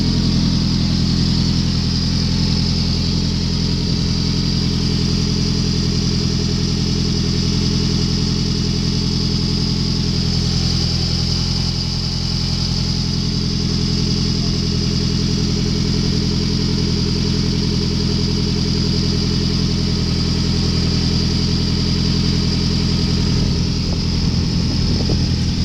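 A 2003 Toyota Camry engine with 194,142 miles runs during an engine test, giving a loud, steady, continuous drone that holds at an even pitch throughout, with no talking.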